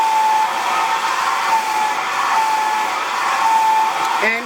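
A hair dryer blows steadily on high heat over a lace front wig, a continuous close whirring hiss with a faint whistle-like tone that shifts slightly as it moves, ending with a brief chirp of higher tones.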